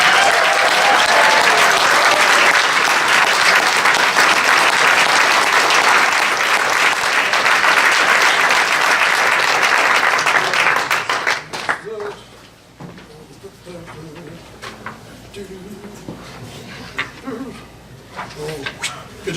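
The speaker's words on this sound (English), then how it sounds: "So give a big round of applause to Gavin Carter, Bishop Murray, and Gunnar M" Dense applause fills a wrestling banquet hall for about eleven seconds, then drops away abruptly to quieter room chatter and scattered sounds.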